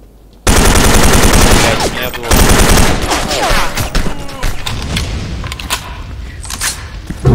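Loud video game gunfire bursts in after a short quiet start: a dense machine-gun volley, then scattered single shots and bursts fading somewhat, with a voice talking faintly underneath.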